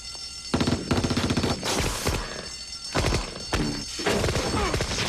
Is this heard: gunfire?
yes